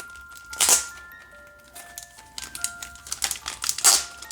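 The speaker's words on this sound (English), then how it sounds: "Let's pull off all this tape." Packing tape pulled off a cardboard package, several sharp ripping bursts with crinkly tearing between them, close and fairly loud.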